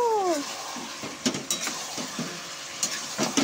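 Onion and garlic stirred in a pot of mutton curry with mustard oil, salt and turmeric: a spoon scrapes and knocks against the pot in uneven strokes over a steady sizzle.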